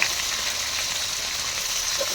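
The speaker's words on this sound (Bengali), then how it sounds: "এই যে মাছের ডিমটা ভেজে নিচ্ছি।" Fish roe and fish heads fry in hot oil with a dense, steady crackling sizzle up close, with no talk.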